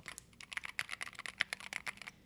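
Brisk, steady typing on a Keychron Q1 mechanical keyboard set directly on a wooden desk, with close, crisp clacking keystrokes in an uneven rapid rhythm and no voices.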